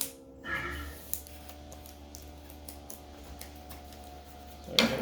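Scissors cut off extra tape on a homemade squishy, with a few small snips and ticks over quiet room tone. A sharper, louder snip comes near the end.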